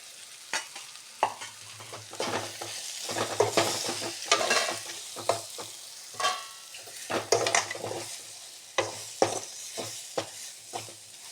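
A spoon stirs spice powder and salt into eggplant vangi bath in a pan, making close irregular scraping and clinking strokes over a faint sizzle, with no talk.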